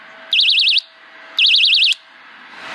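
A FishingSir fish bite alarm for a fishing rod sounds twice at its loudest setting, each a half-second burst of rapid warbling electronic tone, close and piercing, separated by a short pause.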